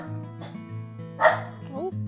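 A dog gives a few short yips and barks outdoors near a hillside, interspersed with brief whimpering, close and moderately loud.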